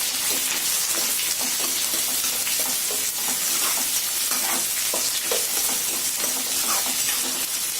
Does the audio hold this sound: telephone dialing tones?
no